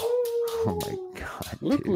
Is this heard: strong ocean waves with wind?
no